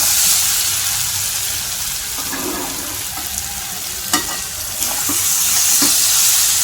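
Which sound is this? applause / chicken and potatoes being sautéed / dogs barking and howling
chicken and potatoes being sautéed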